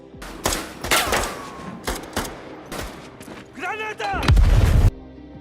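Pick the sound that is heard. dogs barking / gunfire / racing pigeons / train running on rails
gunfire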